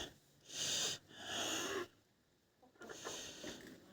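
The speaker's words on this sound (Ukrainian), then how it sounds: "Отакі мої півники, такі мої курочки." Close-up clucking and raspy calls from roosters and hens in a few separate bursts, with quiet gaps between them.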